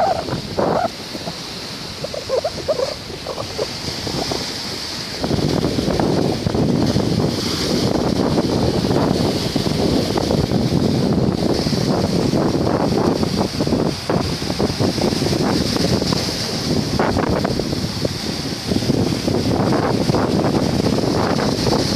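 Wind and surf at Bãi Dâu beach in Vũng Tàu make a steady, broad roar. It is quieter for the first few seconds, then grows louder and fuller, with no talking.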